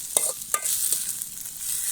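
Vegetables with a little coriander leaf stir-frying in a pan for a bread toast poriyal, a soft steady sizzle broken by two or three quick scraping strokes of a spatula, with no talking.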